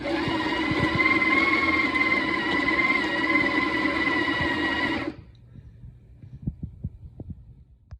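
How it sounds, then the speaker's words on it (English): A Breville coffee grinder motor runs for a steady, loud five-second grind with a droning, harmonic whine, then cuts off abruptly, leaving only faint scattered knocks and handling sounds. "Here's the 5-second grind of the Breville."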